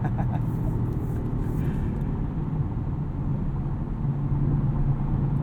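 A 2021 Audi RS6 Avant cruises at night, its engine and road noise forming a steady, loud low rumble that fills the whole stretch, with no clear revving or gear changes.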